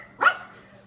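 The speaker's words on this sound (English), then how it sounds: "The lead dog barked at him." A Siberian husky sled dog gives a single sharp bark, close and fairly loud, fading into a quiet background.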